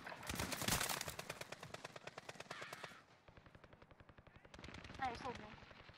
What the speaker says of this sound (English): Guys, I'm getting shot at from north.